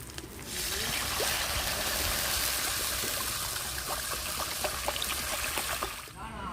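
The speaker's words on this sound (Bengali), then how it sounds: "আমি জল দিয়ে দিচ্ছি পরিমাণ মতো" Water poured into a pan of well-fried spice paste for a yam dhoka curry, a continuous close trickling splash for several seconds with scattered sputtering crackles, ending abruptly.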